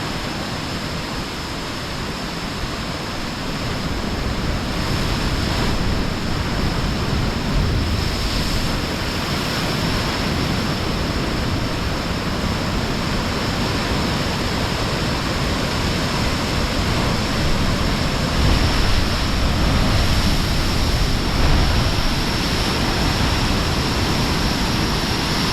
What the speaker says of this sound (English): you can watch the swell come in and just take in the power of the ocean